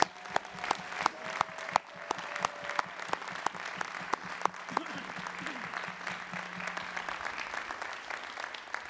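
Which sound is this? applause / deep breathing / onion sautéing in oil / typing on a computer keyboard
applause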